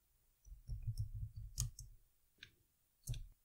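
A computer keyboard being typed on at a Windows command prompt, a close run of soft key clicks followed by a few separate isolated taps and pauses, with no speech.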